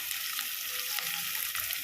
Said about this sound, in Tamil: கரண்டி எடுத்து நல்லா வதக்கிக்கலாம்